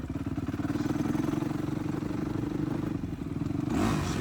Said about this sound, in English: She just grinds and grinds in fifth gear, not going anywhere.